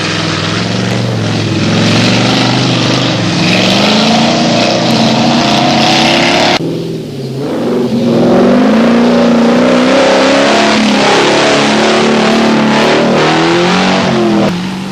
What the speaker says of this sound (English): Number 161, a Range Rover driven by Ian and Michael Watson.